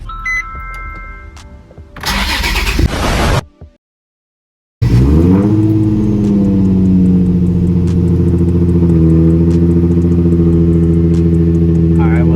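A 2008 Nissan 350Z HR engine starts after a 90k-mile refresh: a brief crank, then a loud catch into a steady close idle that drops and settles; a voice is heard before the start.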